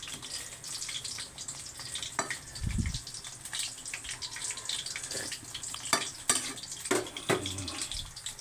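Food fries in a pan with a continuous sizzling hiss and scattered crackles and pops throughout, moderately close and with no talk.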